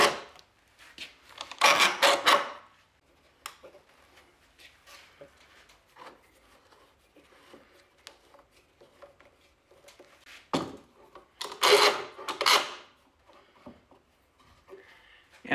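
Glued wooden boards for a charcuterie board are flipped and clamped, giving two clattering bursts of wood knocking and shuffling separated by quieter handling and light clicks, close by with no talk.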